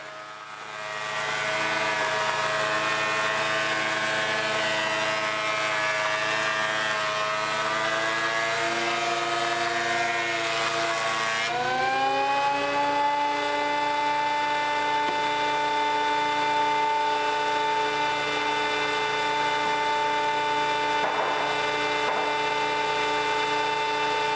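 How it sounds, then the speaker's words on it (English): A thickness planer feeds a 7-foot hardwood board through, a loud continuous high whine with steady tonal harmonics. The pitch drops partway as the cut loads the motor, then holds level for the rest of the pass. "it takes approximately 26 seconds to pass this 7-foot board, it's about 7 feet long, through the thickness planer"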